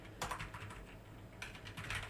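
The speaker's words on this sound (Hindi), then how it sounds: "उसके बाद यहाँ पे इसमें टाइप करते हैं वेबसाइट" Quiet clicks of a computer keyboard as someone types a web address into a Microsoft Word document, in a few brief clustered keystrokes without any talking.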